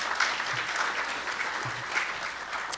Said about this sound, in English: let's give a round of applause for Joel